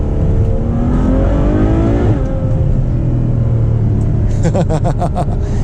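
Ferrari 812 Superfast V12 revving hard in manual mode, loud and close from inside the cabin, with rising engine pitch broken by quick gear shifts and a burst of sharp crackles near the end.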